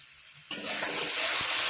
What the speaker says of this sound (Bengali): ভালো করে সমস্ত মশলা দিয়ে কষিয়ে নেব।